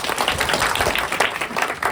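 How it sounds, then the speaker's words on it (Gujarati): A crowd claps in welcome for the organisers of a cow-care organisation, giving a brief dense burst of steady applause. "પહેલાં તો એમને તાળીઓથી વધાવો ભાઈ"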